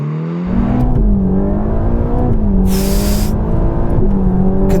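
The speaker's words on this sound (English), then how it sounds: "let's see what this thing can do 0 to 60 in" Ferrari Roma accelerating hard from a standstill on a slippery, greasy track, engine note rising steadily through the gears with a loud, continuous roar and a brief high whine midway, close up.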